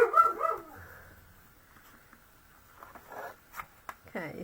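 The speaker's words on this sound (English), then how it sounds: "Not quite sure why he's barking." A dog gives a short bark and whimper at the start, followed by quiet rustling and a few faint yelps later on.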